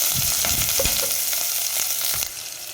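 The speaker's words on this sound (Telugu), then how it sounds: "ఇవి కూడా బాగా డీప్ ఫ్రై అవ్వాలండి." Dried red chillies, onion and green chillies deep-frying in oil for tomato rasam, giving a loud, steady sizzle with faint stirring scrapes and no talk.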